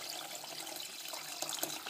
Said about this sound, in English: we want to add another quart of our water